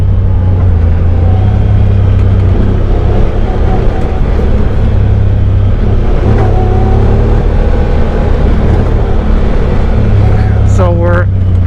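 Honda Talon side-by-side engine running steadily on a forest trail, a continuous loud motor drone with a brief rev near the end, with a person talking over it.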